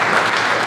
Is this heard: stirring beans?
no